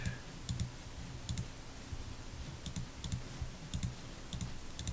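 Computer mouse buttons clicking at a desk while working in Microsoft Access, roughly seven or eight sharp, quiet clicks in irregular pairs over a faint background hiss.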